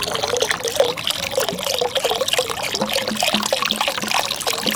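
Bleach pours into a container of water for dyeing a shirt, a steady splashing trickle with bubbling pulses running continuously at moderate loudness, no voices.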